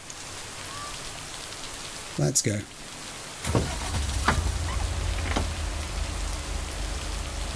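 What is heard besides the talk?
rain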